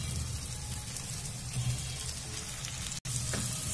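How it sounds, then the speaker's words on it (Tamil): Mixed vegetables for Kerala-style theeyal sauté in a pan in a home kitchen, a soft, steady sizzle with light crackles and a brief stir, quiet and close. "சேர்த்து ரெண்டு நிமிஷம் வதக்கிக்கலாம்."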